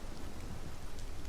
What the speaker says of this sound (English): the rain makes company.